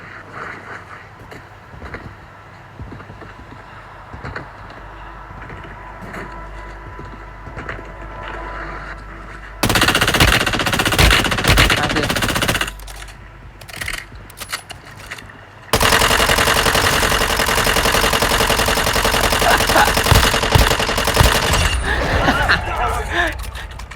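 Gunfire in the Warzone Mobile video game comes as rapid automatic bursts, loud and close, set apart by calmer game ambience. A voice talks over parts of it.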